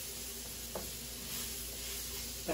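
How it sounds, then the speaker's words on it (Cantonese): Ginger, scallion and shallot aromatics sizzle in a hot wok with a steady, close hiss, a brief clatter midway and a small knock at the end. "爆香呢啲料頭先。 有啲薑葱啊、乾葱嗰啲咧"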